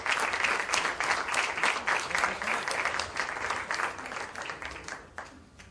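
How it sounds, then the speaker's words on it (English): An audience at a book launch applauds Amitabh Bachchan with loud, dense clapping that gradually thins and fades out over several seconds. "A loud round of applause for Mr."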